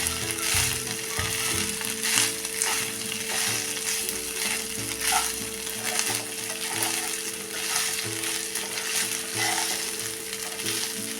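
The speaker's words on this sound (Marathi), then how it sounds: "आणि ह्यामध्ये टाकूया आता ही अर्धा चमचा साखर आणि आता हा आपण एकसारखा परतून घेऊया" Rice sautéing with half a spoon of sugar in a pan produces a continuous close sizzle with rhythmic scraping of a spoon stirring, steady and fairly loud.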